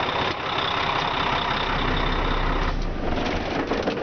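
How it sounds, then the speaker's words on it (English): A truck engine idles steadily nearby, a low, even rumble with no voices. "now that we don't have to yell over the noise of the engine"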